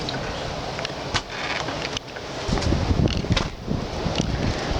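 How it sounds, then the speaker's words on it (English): A strong windstorm gusting outside a tiny house in Ontario, heard as broadband rushing and buffeting microphone wind noise that rises and falls in gusts, loud and continuous with no talk. "There's quite a windstorm going on outside."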